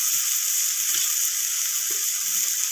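Eggplant sautés with potatoes in a pan, a steady hissing sizzle with a few faint scrapes of stirring, heard alone at a fairly even level.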